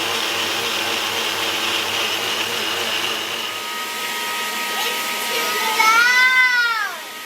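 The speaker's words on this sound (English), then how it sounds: "Now we're going to blend it again." A kitchen blender whirs through a strawberry sorbet mixture, a steady loud motor drone that shifts pitch near the end as the blades spin down, with faint home voices behind it.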